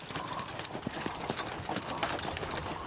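Horse hooves clip-clop beside a covered wagon on the historic Oregon Trail ground, a close, uneven run of sharp knocks about three to four per second, heard alone without talk.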